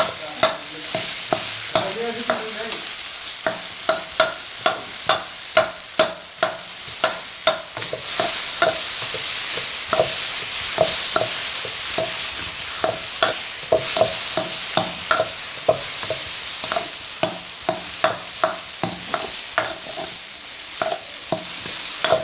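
Peas and potatoes being stirred together in a hot pan, a spoon scraping and clacking steadily over a constant sizzle of frying for a snack filling, with no talking.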